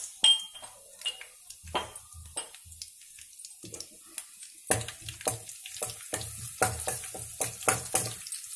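Crushed garlic and cumin seeds hit hot oil in a home kitchen pan, giving a quiet, uneven crackle with scattered pops and soft clinks that build into a steadier sizzle in the second half.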